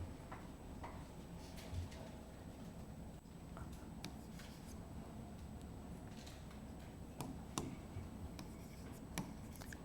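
A pen scratching out notes on paper in a quiet classroom-style setting, faint irregular strokes and light ticks over a low steady room hum.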